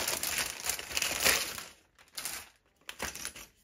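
A LEGO Minecraft blind bag is torn open with crinkly plastic rustling and ripping, a dense burst of crackling followed by a few shorter crinkles, close and fairly loud, with no speech.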